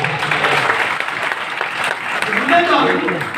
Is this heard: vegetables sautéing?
no